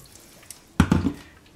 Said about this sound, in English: I think it is still very thick and I would like it a little thinner, so I'm adding more water